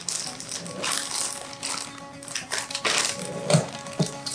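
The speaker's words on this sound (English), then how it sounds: "So for now, we'll just put this guy in a new plastic bag." Toy train parts are slipped into a new plastic bag, giving close, soft, irregular crinkling and rustling with a few light rattles and clicks.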